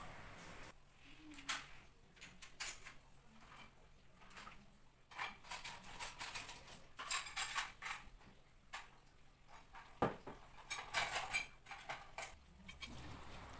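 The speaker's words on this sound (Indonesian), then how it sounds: "Lanjut cuci piring lagi ya." Dishes being washed by hand: scattered clinks and clatters of plates, pots and cutlery with running-water hiss, fairly quiet and steady, no talking.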